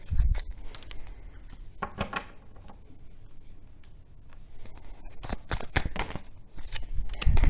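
Quick papery riffles and slaps of tarot cards being shuffled, coming in uneven bursts up close with short pauses between them.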